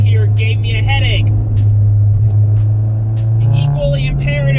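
A Honda Civic Si FA5 fitted with a Skunk2 Alpha header and 3-inch exhaust, heard from inside the cabin as a loud, steady low drone that holds throughout and rises slightly near the end, with someone talking over it.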